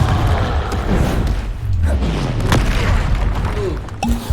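Confringo blasting-spell explosions in a wizard video game, a busy run of loud booms and thuds layered over continuous game noise, with a voice calling out at moments.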